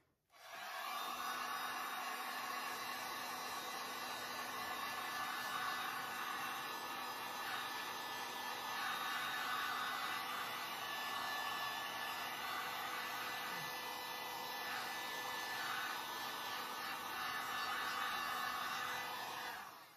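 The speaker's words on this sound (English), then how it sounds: "now I'm going to get my heat gun and I'm going to pop all these bubbles and warm up the resin" A corded electric heat gun blows continuously, warming poured acrylic resin and popping its surface bubbles; the steady, close airy roar runs unbroken from start to finish with no talking.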